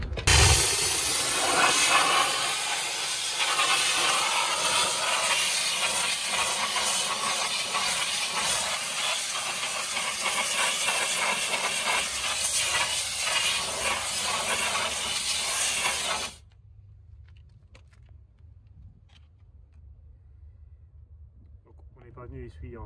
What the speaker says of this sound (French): La démonstration d'une nettoyage d'une jante qui est sale, sans multisurface, sans APC, sans dégraissant, sans rien, juste avec la puissance de la vapeur.